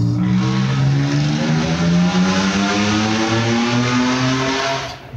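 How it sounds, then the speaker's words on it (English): Motorcycle engine revving hard and sweeping past, a steady loud droning whine with shifting pitch that holds strong throughout and drops away only at the very end, with no voices over it. "Wait for Mr. Motorcycle there."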